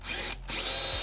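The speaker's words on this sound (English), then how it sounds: "They're only 1 inch, and they drill and they also screw in at the same time." Power drill driving one-inch self-tapping screws during a school bus conversion, a loud close whirring motor that briefly stops and then starts again, with no talking.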